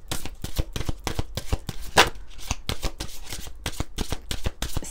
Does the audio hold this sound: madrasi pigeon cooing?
no